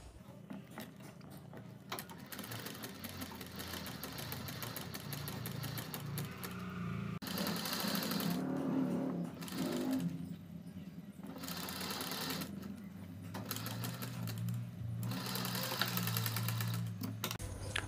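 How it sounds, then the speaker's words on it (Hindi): A sewing machine stitches anchor thread around the neckline of a kurti, its needle mechanism whirring in stop-start bursts of rapid clatter, fairly quiet and close, with brief pauses between runs. "इसी प्रकार से हमें अपने पूरे नेक में यहाँ पर सभी सिलाई लगा लेनी है।"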